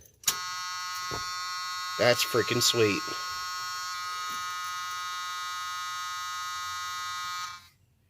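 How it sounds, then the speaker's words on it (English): The key-on warning buzzer on a Chevy C10 dashboard holds a steady, loud electric drone for about seven seconds after a click, with someone speaking briefly over it before it cuts out. "the buzzer actually works."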